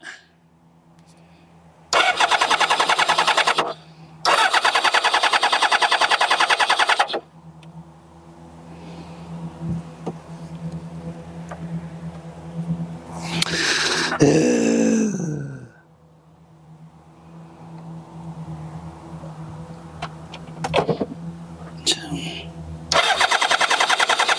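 Kawasaki ZZR600 motorcycle engine cranked over during a spark test: several loud, sustained bursts of starter cranking separated by pauses, with quieter handling noises and brief talk in between.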